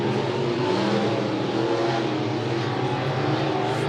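Dirt track race cars roar steadily down the backstretch at Monett Motor Speedway, a dense, continuous engine drone at even loudness with no voices.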